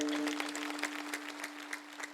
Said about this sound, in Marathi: त्यांच्यासाठी डबल एकदा टाळ्या वाजवा